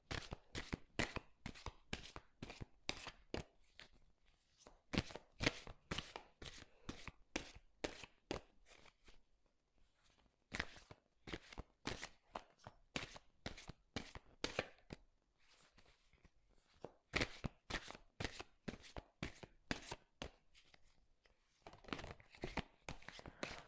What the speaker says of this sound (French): j'ai beaucoup trop de cartes